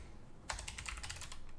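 Terminal commands being typed on a computer keyboard for a Raspberry Pi 4 Python scraper setup: a quick, steady run of close keystrokes, each click crisp and distinct, starting after a brief quiet pause, with no talking.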